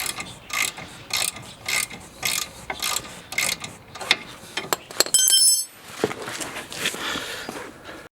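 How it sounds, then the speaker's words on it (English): Ratchet tightening the nut on a VW Golf track rod end, loud close rapid pawl clicking in repeated bursts with short pauses, then sharper metallic clacks and a brief ring. "You can then do the tightening with the ratchet, which makes it a lot faster."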